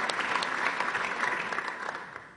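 Steady applause from a seated assembly at a municipal council meeting after a member is sworn in, a dense wash of clapping hands lasting the whole moment with no speech over it.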